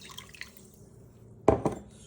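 A glass of water is poured into a pot of sugar for rose syrup, a short splashing gush after faint dripping sounds, close and moderately loud with no talking.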